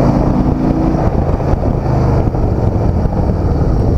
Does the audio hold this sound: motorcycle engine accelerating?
yes